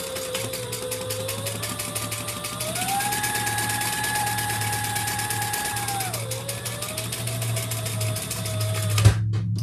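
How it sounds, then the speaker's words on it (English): A sewing machine top stitching along the bottom of a leather bag, a fast steady run of needle strokes with a whining motor that rises and falls in pitch, then stops abruptly near the end. "I'm going to top stitch here on the bottom"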